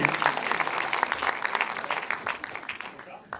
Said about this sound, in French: Applaudissez Gérard Darmon, s'il vous plaît